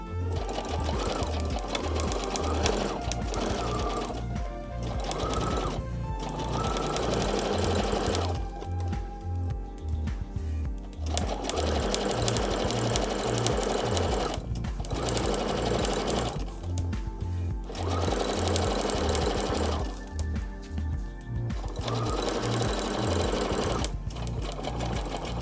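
A sewing machine stitches a three-step zigzag in bursts of rapid, rhythmic needle clatter, pausing briefly between runs, close and clear.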